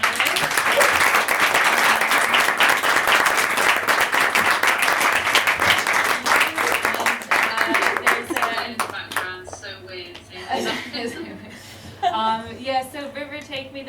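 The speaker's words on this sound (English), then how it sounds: "Please give a big round of applause to the amazing panelists." A panel audience gives the panelists a big round of applause, a dense, sustained clapping that holds steady for several seconds, then thins out into scattered claps as a voice starts talking.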